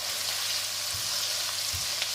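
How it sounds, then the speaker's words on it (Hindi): Onions with cumin seeds frying in a pan, a continuous hissing sizzle with a couple of soft scraping stirs, no talking. "और इसको अभी जो है वो लाइट गोल्डन होने तक जो है वो हम फ्राई करेंगे"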